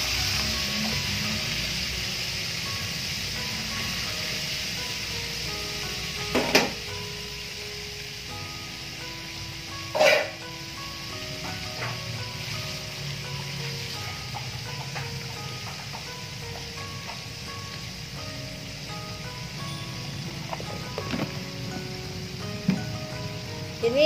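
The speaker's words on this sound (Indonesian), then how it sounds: "Ya, saya goreng dulu ya" Fish frying in hot oil for an Indonesian green chili fish dish, a steady close sizzle and crackle with a few sharp clinks of utensils now and then.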